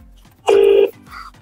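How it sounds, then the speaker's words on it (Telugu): A phone call rings once with a loud, clear electronic tone lasting about half a second, followed by a softer second tone. "రింగ్ అవుతుంది వీళ్ళకి"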